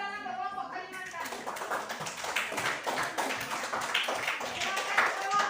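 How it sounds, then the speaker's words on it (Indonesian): A classroom of students clapping for a group presenting on Kalimantan, a soft patter of scattered hand claps that follows a teacher's voice and carries on under faint chatter. "tepuk tangan untuk kelompok Kalimantan."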